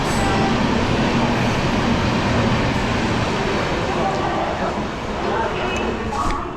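The Kanchankanya Express pulling out past a station in India, a loud, continuous rolling rumble of carriages on the track, with people talking nearby over it.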